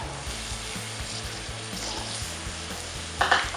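Sliced brinjal and tomatoes sauté in a pan with onion and ginger-garlic paste. A continuous crackling sizzle is joined by repeated stirring scrapes, ending in a sharper burst of spitting near the close.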